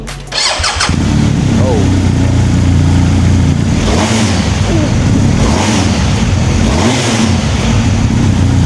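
BMW R1250 GSA motorcycle engine starts up, then idles loudly and revs repeatedly in rising bursts, close by.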